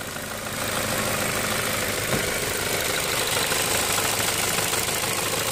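A 2008 Ford Fusion engine idling, heard up close as a steady, loud mechanical hum and rumble with a faint knocking texture, running on its own with no talk.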